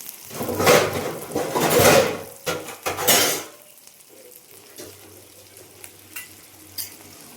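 Onion frying in a pan in a home kitchen is stirred with a utensil, giving a few loud scraping, clattering strokes against the pan, then a quieter soft sizzle with occasional light clinks.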